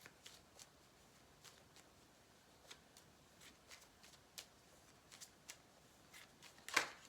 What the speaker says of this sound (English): I'm gonna pick a card from my own personal cards first